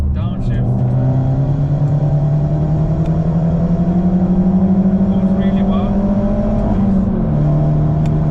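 Corsa VXR hatchback engine pulling hard and downshifting, a loud, steady rising drone with a pitch change near the end, close up.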